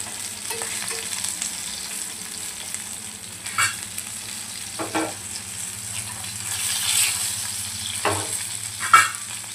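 Surmai fish fries in a pan, giving a steady close sizzle with occasional stirring scrapes and soft clinks, with no talk over it.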